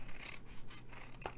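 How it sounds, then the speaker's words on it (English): Scissors snip through a long strip of milk carton in a brief, close, quiet cut lasting just over a second, with a faint rubbing scrape. "we are going to cut this long strip"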